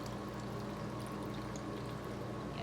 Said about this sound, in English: Yeah, I think it's leaking from the bottom.